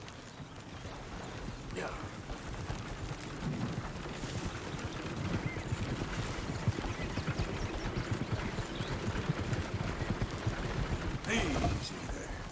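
Horse hooves gallop steadily in the video game Red Dead Redemption 2, a continuous rhythmic clip-clop under occasional spoken voices and faint outdoor ambience.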